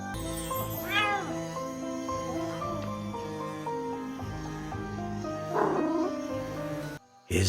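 A cat in the game Dark Tales meows twice, rising, drawn-out cries with a pause between them, set over a sustained musical score and ambient backdrop.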